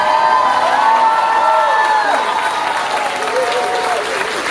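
A large commencement crowd at Moore's 168th graduation ceremony applauds and cheers the class of 2017 receiving diplomas; loud, continuous clapping runs throughout, with whoops and shouts rising above it before easing slightly toward the end.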